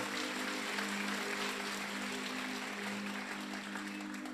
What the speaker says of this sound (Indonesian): sekarang tepuk tangan semua untuk Bapak Ibu-ibu